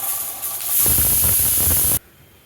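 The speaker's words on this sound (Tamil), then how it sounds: "கொஞ்சம் வடகம் போட்டு தாளிச்சிக்கலாங்க." Vadagam and a broken dried red chilli hit hot oil for a Tamil tempering, with a loud, bright sizzle that starts abruptly, crackles steadily for just over a second and then cuts off.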